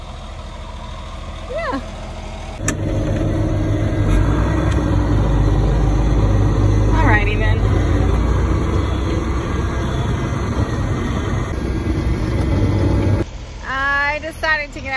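A farm tractor's engine idles steadily close by for most of the clip, a continuous low rumble that stops near the end, with a brief spoken word over it.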